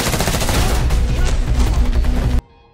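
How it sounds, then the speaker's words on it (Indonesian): A dense, rapid burst of automatic gunfire rattles loudly through a shootout scene between an FBI special forces team and enemy guards, then cuts off abruptly into near silence. "Baku tembak pun terus terjadi."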